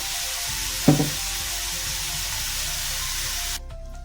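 Cluster beans cooked as a garlic-chili vegetable curry with coriander powder fry in a pan with a steady, close hiss. A single metallic clink sounds early on, and the sizzle drops lower near the end.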